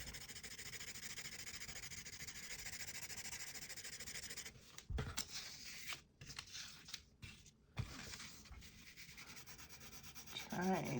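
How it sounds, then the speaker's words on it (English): A pencil shading dog fur on paper, heard as close, dry scratchy strokes in a steady run, then broken into short rubbing bursts with brief pauses. "I'll probably come in with the edge of my pencil a little bit and fix this"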